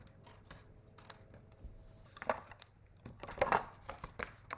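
Scissors trimming paper card for a handmade card: a few quiet, close snips and crisp paper rustles, faint against a low background hum, no talk.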